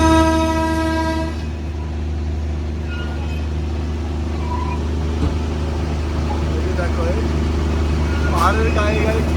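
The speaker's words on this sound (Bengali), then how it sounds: "দেখো এবার কিন্তু আবার ছাড়বে, মাঝখানে দাঁড়িয়ে গেছিল ট্রেন।" A Darjeeling toy train on the NJP to Darjeeling hill line sounds a long, loud horn blast, then continues with a steady, close rumble of wagons and engine. A brief chirp and squeal come near the end.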